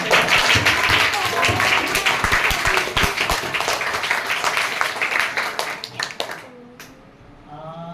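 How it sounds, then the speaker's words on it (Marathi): Loud applause rises at a Diwali gift distribution event at a Zilla Parishad school in Shahpur. Dense rapid clapping from a group fades out over several seconds, and speech and background voices follow at the end. "जोरदार टाळ्या वाजवा."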